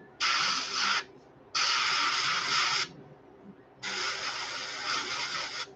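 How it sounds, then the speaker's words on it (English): Airbrush spraying paint onto a shad glidebait fishing lure, three close, steady hissing bursts of about one to two seconds each, separated by short pauses. "So I'm going to spray."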